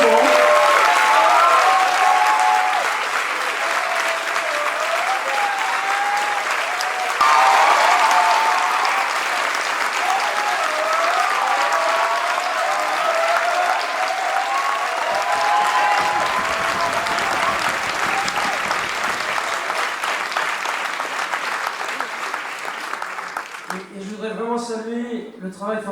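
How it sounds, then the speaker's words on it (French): An audience at the end of a cabaret dance show applauds warmly and continuously, a full, close clapping that swells, holds for over twenty seconds, then thins out as a voice begins speaking. "que vous pouvez également applaudir chaleureusement"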